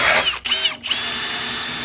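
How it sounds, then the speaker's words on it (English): Power drill boring out spot welds on an E36 BMW body shell, a high whining bite into sheet steel that briefly cuts out twice, then settles into a sustained close, loud grind. "let's drill some of these spot welds out first."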